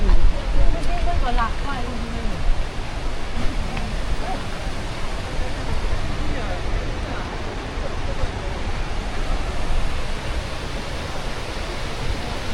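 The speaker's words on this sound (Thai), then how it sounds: "น้ำตกตาดงามหลายพี่น้อง" Bridalveil Fall in Yosemite roars as a steady, broad rush of falling water, wind mixed in, with people talking over it intermittently.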